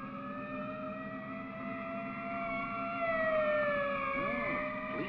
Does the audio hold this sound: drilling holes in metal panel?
no